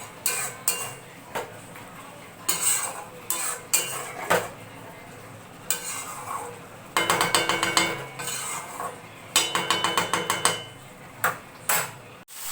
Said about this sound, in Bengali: দেখো দই মাখানো চিকেনটা আমি এর মধ্যে দিয়ে দেবো। তারপরে সবাই তো জানোই এটাকে কষতে দিতে হবে ভালো করে।